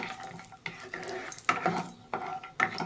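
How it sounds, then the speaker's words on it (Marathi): Grated carrots for carrot halwa are stirred and sautéed in a pan, with repeated rhythmic scraping and clinking of a spatula over a faint sizzle, close and quiet, with no voices. "थोडंसं असं परतून घेतलं ना खमंग लागतं खायला"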